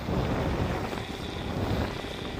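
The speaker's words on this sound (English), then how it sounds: "We're gonna run down the, on the scooter here." A scooter runs at about 40 km/h, captured on Ray-Ban Meta smart glasses. Steady, loud wind rush and low road rumble fill the whole stretch, and no one speaks.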